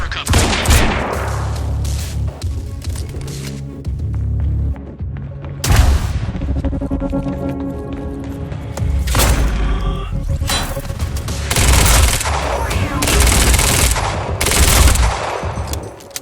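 Loud bursts of automatic gunfire and heavy sniper shots in the video game Quantum Break, arriving in dense volleys with booming impacts and short gaps between clusters.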